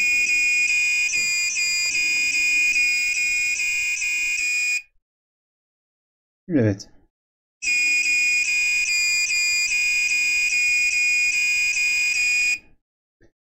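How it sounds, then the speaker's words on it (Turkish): A melody-selectable doorbell plays its tune through a tinny buzzer in two long, loud passages of steady electronic notes, separated by a silent pause with a brief spoken word. "Kapı zilimize basıyoruz."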